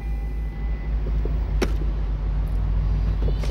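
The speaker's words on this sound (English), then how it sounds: "You see the windows come down, the roof pops." A 2024 Lexus LC 500 Convertible Bespoke Edition lowers its windows and opens its roof: a steady low electric motor drone with a sharp mechanical clunk partway through and smaller clicks after.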